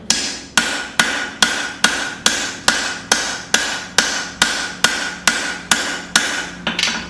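A hammer thins the flats of an African safari knife at the forge, striking steel in a steady rhythm of about fourteen sharp, ringing blows, close and alone.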